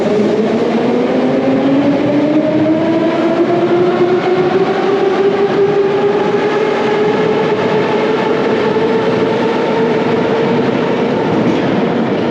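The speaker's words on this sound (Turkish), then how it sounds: "Metrolar o kadar çok sık geliyor ki." A metro train runs loudly and steadily, a constant roar of wheels and motor with a rising whine, close by and without pause.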